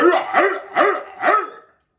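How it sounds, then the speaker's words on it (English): A dog barks four times on command, evenly spaced, loud and close, then falls silent. "Go ahead, bark for him one time"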